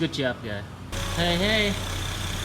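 A car's engine, an Acura RDX just fitted with a new valve cover gasket, idles with a steady low hum after starting, while a voice speaks briefly over it.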